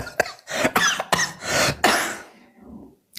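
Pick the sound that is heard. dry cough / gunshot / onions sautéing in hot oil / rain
dry cough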